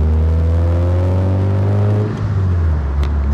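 Engine of a Mazda MX5-based kit car running loud and close with steady low harmonics that shift in pitch, the tone changing partway through as if revs drop or the car moves.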